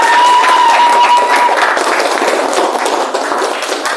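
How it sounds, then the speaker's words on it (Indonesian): A classroom of students claps for a group after its presentation, a dense patter of hand claps filling the short stretch, fairly loud and close, with a faint voice underneath. "Sebelumnya berikan tepuk tangan untuk kelompoknya."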